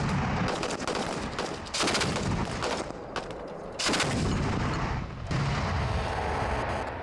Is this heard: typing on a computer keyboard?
no